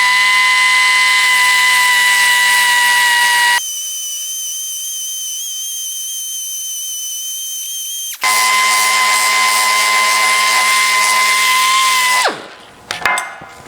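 A grinder lightly works down a planished weld on a metal panel with a high, steady whine. The whine drops in pitch partway through, rises again and finally spins down to a stop.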